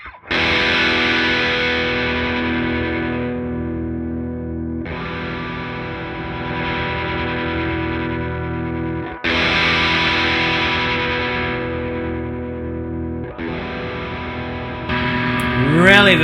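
An electric guitar through a ProCo RAT distortion pedal rings out in long, thick distorted chords, each sustained for several seconds before the next strike, loud and saturated with a buzzing edge.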